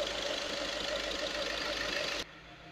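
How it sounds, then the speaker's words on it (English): A Volkswagen Caddy 1.6 TDI diesel engine running rough and shaking, a loud steady knocking idle with pulsing vibration that cuts down abruptly near the end. "As you can notice, the engine is shaking a lot,"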